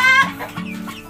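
A native chicken in a backyard farm gives a couple of short, close clucks, alone with no talk.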